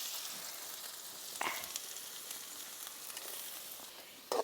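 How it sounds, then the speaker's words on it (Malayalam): Two finely chopped medium onions sizzle in hot coconut oil for an egg curry, a soft, even frying hiss with a couple of faint clinks from the pan, with no talking. "നമ്മൾ കുനുകുന അരിഞ്ഞു വെച്ച മീഡിയം സൈസിൽ രണ്ട് ഉള്ളിയാണ് ഞാനിതിൽ ഇട്ട് കൊടുക്കുന്നത്"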